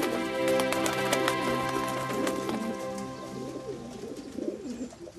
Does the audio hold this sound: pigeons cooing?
yes